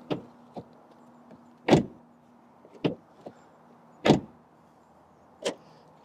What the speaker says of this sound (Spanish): Para que escuchéis ahora el sonido de la puerta